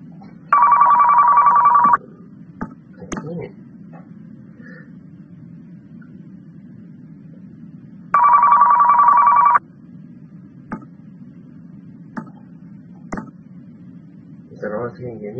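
A phone rings in Car Mechanic Simulator 2015: two bursts of an electronic telephone ring roughly six seconds apart over a low garage hum, with scattered clicks and knocks between them.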